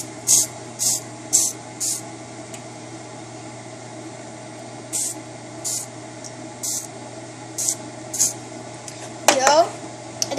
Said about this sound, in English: next we're going to respray it with Pam